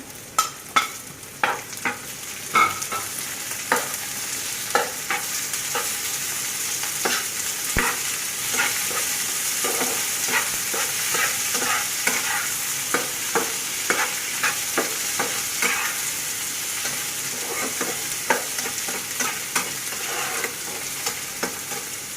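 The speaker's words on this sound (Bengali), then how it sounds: "এরকম করে একটু বাদামি কালার করে পেঁয়াজটা ভেজে নিব। এখন আমি টমেটোটা দিয়ে দিলাম।" Onion and tomato fry in oil in a pan, a steady close sizzle broken by frequent sharp clinks and scrapes of a spoon stirring, continuous with no voices.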